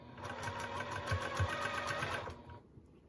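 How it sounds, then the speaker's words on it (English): A sewing machine runs steadily for about two and a half seconds, stitching fold-over elastic onto a mesh pocket, its fast rhythmic needle chatter close and clear before stopping abruptly. "sewing this elastic on in a little 1-step process"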